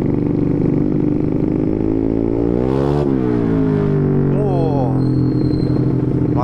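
Honda Beat ESP 125cc scooter fitted with an Empush EM1 round short-silencer exhaust, heard while riding: a loud, close engine drone rising and falling in pitch as the throttle changes, with a brief rev surge midway.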